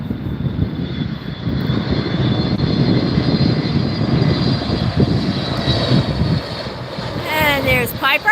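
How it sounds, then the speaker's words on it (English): Frontier Airlines Airbus A320 in white pelican livery at LAX, arriving from Seattle: a loud, steady jet engine roar with wind noise that fills the whole stretch, alongside talk. "From Seattle, an Airbus 320."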